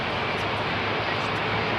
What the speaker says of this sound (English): Nice to see an AIRBUS 350.